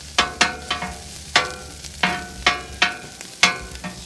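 Fried rice sizzling and being stirred on a teppanyaki griddle grill, a steady hiss punctuated by sharp scraping spatula strokes at irregular intervals, close and clear with no talking.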